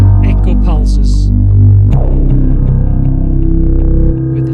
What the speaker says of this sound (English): I love pulses in the low end